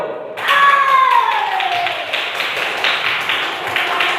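Schoolchildren in a classroom clap together after a quiz result, a dense burst of many small hands starting abruptly and continuing steadily, with a short sung or voiced tone near the start.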